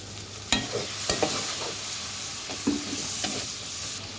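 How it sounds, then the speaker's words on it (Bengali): A paste of ginger, garlic, turmeric, chili powder, coriander powder and cumin fries in a pan, a continuous sizzle punctuated by a handful of spoon taps and scrapes, near and moderately loud, no voices. "আদা রসুন হলুদ গুঁড়া মরিচ গুঁড়া ধনিয়া গুঁড়া একটু জিরা ফাঁকি দিয়ে মশলাটাকে আমি ভালোভাবে কষিয়ে নেব"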